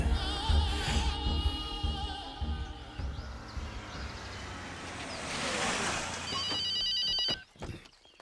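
A telephone rings with a repeated electronic trill near the end, rising out of a surging, wash-like musical background in a film action scene.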